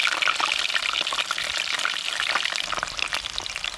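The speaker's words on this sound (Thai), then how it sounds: "เดี๋ยวผมจะ ขออนุญาตทอด ประมาณสัก สิบนาทีนะครับ" Dok din flowers deep-frying until crispy in hot oil, giving a loud, steady, dense crackle and sizzle with no voices.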